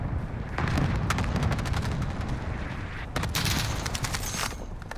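Rapid automatic gunfire in Call of Duty Warzone rattles out in dense bursts with a brief pause between them, loud and close over a busy, roaring game soundscape.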